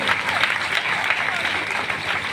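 An audience claps in a brief burst of lively applause at a stage comedy show. The clapping is close and dense and holds a steady level throughout.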